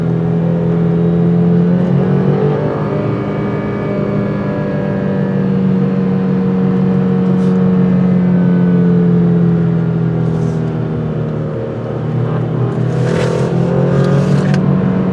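An all-wheel-drive Alfa Romeo Giulia engine drones steadily from inside the cabin, rising and falling gently as it cruises, with a smooth, throaty hum throughout.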